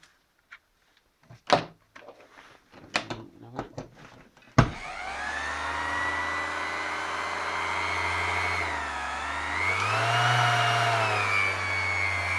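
An Einhell Expert TE-OS 2520 E orbital sander whirs steadily after a few clicks and knocks as it is switched on, a close continuous motor hum that shifts slightly in pitch partway through.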